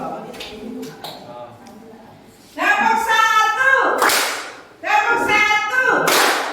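A class of students stands and claps together in a classroom, with loud group voices calling out and two strong bursts of unison clapping after a quieter start.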